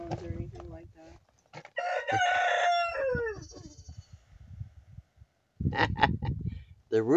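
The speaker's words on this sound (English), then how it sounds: "The rooster's happy this morning." A rooster crows at a permaculture village chicken barn, a long clear cock-a-doodle-doo in the middle, with people talking quietly before it and again after.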